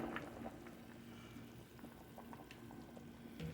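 Chicken tinola broth bubbling at a boil in a pot, a faint, steady simmering hiss with scattered soft pops, heard alone without any talk.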